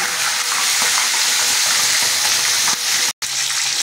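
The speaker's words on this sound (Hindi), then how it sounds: "इसको चिकन को फ्राई करेंगे तेल में" Chicken frying in hot oil, heard as a loud, dense, continuous hiss and crackle close by. There is one brief dropout near the end and no talking.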